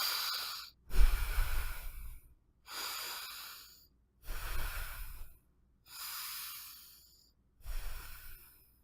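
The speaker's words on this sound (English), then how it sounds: "3 deep breaths." Three deep breaths taken one after another, each a long inhale and exhale of airy, hissing breath close to the microphone, separated by brief silences.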